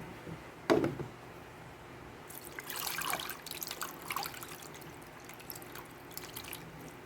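Overripe banana vinegar is poured into a jar, a soft trickle and dribble of liquid following a sharp knock near the start.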